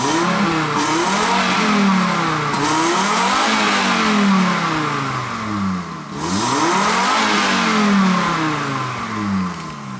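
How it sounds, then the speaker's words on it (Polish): An inline five-cylinder petrol engine revs repeatedly, its pitch sweeping up and down in steady cycles; a loud, close, continuous engine note with no talking. "Mruczy rzędowa piąteczka."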